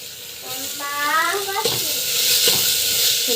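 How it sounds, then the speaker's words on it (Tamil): Spices and onions sizzle and are stirred in a hot pan, a steady close frying hiss with scraping stir strokes, and a voice speaks briefly over it. "நல்லா வதக்கிட்டுக்கோங்க"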